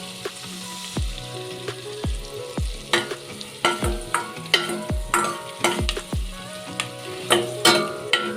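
Tadka for dhaba-style kadhi pakora sizzles and fries in hot oil with asafoetida, loud and steady, while a spoon clanks repeatedly against the pan in a rough, regular stirring rhythm.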